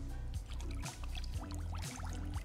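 Water is poured into a small saucepan holding sugar for a syrup, giving a close, brief trickle and splash with light clinks of the pan, heard alone without talk.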